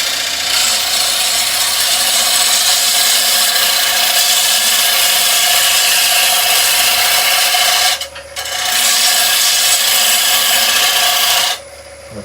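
A gouge scrapes and cuts a wooden bowl blank spinning on a lathe, a steady loud broadband rasp that runs almost continuously, broken by two brief pauses as the tool lifts off.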